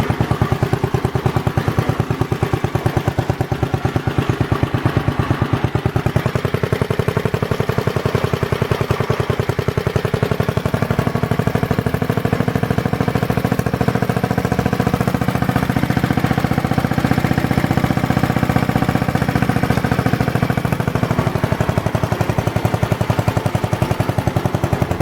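A Magna Trac Deluxe 9hp tractor engine chugs steadily while driving uphill, a loud, rapid single-cylinder putter with metallic clatter and a droning tone that shifts slightly in pitch as load changes.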